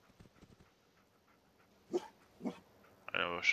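A dog in the video game Fallout 4 gives a couple of short, soft barks and whimpers, followed by a louder, tonal yelp-like sound at the end, after some quiet voice-like murmuring at the start.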